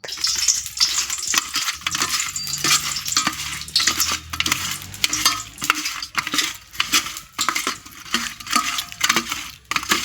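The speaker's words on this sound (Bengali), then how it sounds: "আমি এখন রান্নাঘরে চলে এসেছি মাছ ভাজবো বলে" Fish fries in a pan in a home kitchen, with a steady hissing sizzle and spitting throughout, broken by scraping and clinking stirs of a utensil, close and loud, with no voices.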